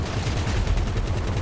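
Machine gun fire in the Grand Theft Auto V video game rattles in a fast, continuous stream of loud, close shots that run through the whole short burst.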